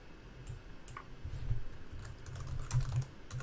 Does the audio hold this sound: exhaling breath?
no